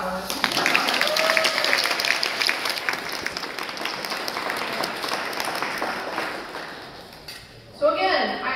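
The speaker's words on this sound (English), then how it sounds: "yes, please clap for us." Audience clapping at a museum armored combat demonstration, a dense crowd applause that gradually fades out, followed by a brief voice as it ends.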